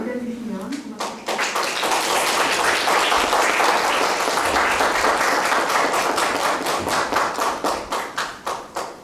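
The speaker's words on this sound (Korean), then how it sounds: "박수로 맞아주시면 고맙습니다." Audience applause greeting a cello performer at a human rights city forum session, steady dense clapping from a crowd that swells and then thins into scattered claps, filling the room without talk.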